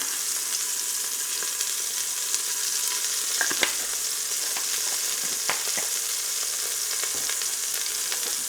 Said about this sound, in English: We're just going to get all four sides of this very nice and browned up.